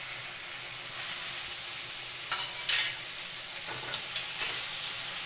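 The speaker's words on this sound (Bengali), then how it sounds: "আদাটা একটুখানি ভেজে দেবো, নাহলে আদার একটা গন্ধ ছাড়বে।" Ginger and green chilli paste frying in a pan for a homemade chicken roast, a bright hissing sizzle that flares in short spurts over a constant crackle, with no voices.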